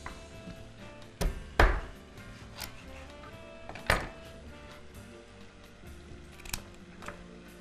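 Vegetables are cut into pieces with a knife, giving a few sharp, close chops spaced several seconds apart over soft rubbing and handling noise.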